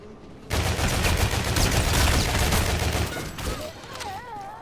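Volk rifle in Call of Duty: Infinite Warfare zombies mode, retro variant, firing a sustained rapid burst of automatic gunfire for several seconds, loud and dense, then trailing off into a fainter tail with game sounds.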